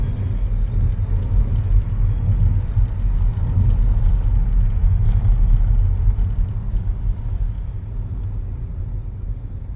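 Car engine during a driving lesson, a steady low rumble of the motor pulling away and accelerating, close and continuous throughout with no talk.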